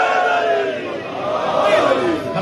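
A crowd at a Muharram majlis in Bradford, England chants religious slogans in unison, a dense, loud wall of massed voices filling the whole stretch.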